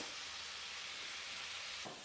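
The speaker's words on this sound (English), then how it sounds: "Now you want to fry the tomato paste through" Steady, close sizzling of tomato paste frying in a pot with carrots and celery, a continuous hiss with a brief scrape of stirring near the end.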